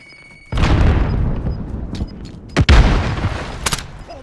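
A frag grenade explodes in Call of Duty Warzone: a sudden heavy boom that rolls on for seconds, followed by a second sharp blast and scattered crackling gunfire.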